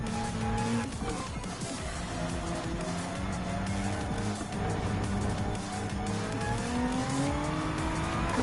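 Cars race and brake hard at the Nürburgring in a Gran Turismo 7 World Touring Car 800 event, engines droning steadily as tires squeal through the whole stretch, loud and continuous, with faint talk over it.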